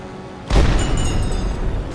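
A U-boat deck gun fires in a video game, giving one loud, deep boom that breaks in abruptly and rolls on in a sustained rumbling tail.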